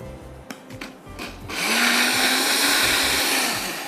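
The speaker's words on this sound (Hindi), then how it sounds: "यहाँ मैंने ब्लेंडर में मैंगोज रख दिए हैं, 2 से 3 आम" A blender blending mangoes starts with a few short pulses, then runs steadily at full power with a loud, high whirring grind.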